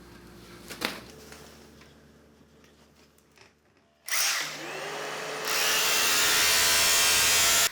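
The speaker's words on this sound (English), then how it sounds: "using this Bosch demolition hammer to take up the first few tiles" A Bosch demolition hammer rattles loudly against a hard floor, breaking up floor tile, starting after a quieter stretch and growing harsher and more intense toward the end.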